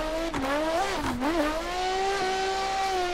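A Nissan S15 drift car pushes up onto a bank and kicks into a drift without the handbrake, its engine note rising and falling in sustained revving close by, with brief tire scrub at the transitions.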